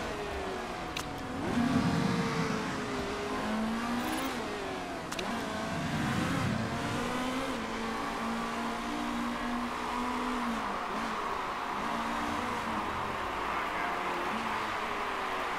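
Race car engines in the Motorsport Manager video game at the 2016 Phoenix race drone and rev continuously, with cars accelerating and whining past over a steady mechanical hum.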